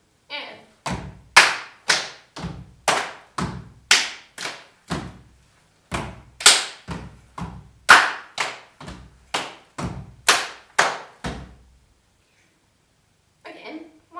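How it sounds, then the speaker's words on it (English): Body percussion in a repeating clap, hit, stamp pattern, sharp claps and thuddy stamps in a steady counted rhythm, loud and close, with a pause near the end before one more hit. "So we just have the clap, hit, stamp."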